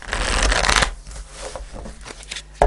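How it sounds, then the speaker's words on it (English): Tarot cards being shuffled by hand, a dense papery riffling that runs loud for under a second, then softer scattered card slides and taps, with a sharp final burst at the end. "I'm going to pull 4 cards"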